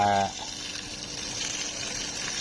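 Water mixed with buffalo-manure fertilizer gushes and splashes steadily onto month-old jujube plants on a soil mound, a continuous close pour after a brief opening tone, with no speech heard.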